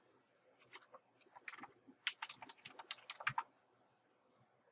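Quick bursts of keystrokes clack on a computer keyboard, close and fairly faint, in irregular runs with short pauses, fading out toward the end.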